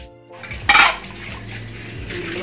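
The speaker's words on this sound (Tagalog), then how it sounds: "ako ngayon dito ay naguhugas ng pinggan guys." Dishes clatter in a home kitchen sink as a plate or pot knocks sharply once, followed by quieter running water and faint rattling, close by and brief, without talk.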